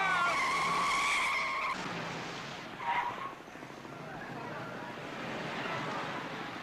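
A car lays rubber as it pulls into a parking lot, tires screeching loudly in a sustained squeal that fades into engine rumble and background noise.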